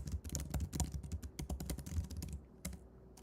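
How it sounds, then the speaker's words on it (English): Fast clattering keystrokes on a computer keyboard, close and dense for a few seconds before thinning to a few final taps, with no voices. "If I type too fast."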